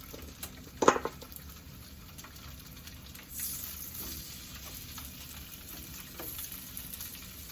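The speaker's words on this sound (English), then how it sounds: "add your meat. Let your meat go ahead on start cooking" Beef pieces frying in a pan for Chinese beef and broccoli, giving a steady low sizzle throughout, with a sharp clatter near the start and occasional soft stirring scrapes.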